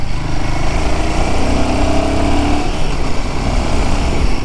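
A Royal Enfield Himalayan 450 motorcycle engine idling in neutral, close and loud, with a steady, even thrumming drone throughout and no talking.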